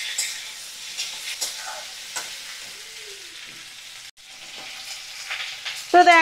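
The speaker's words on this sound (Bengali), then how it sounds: "আমি ওলকপিগুলো মিডিয়াম ফ্লেমে রেখে ভাজা করে নেব" Sliced kohlrabi fries in a pan over a medium flame, a faint steady sizzle with occasional scraping stirs and a sharper clink of a utensil near the end.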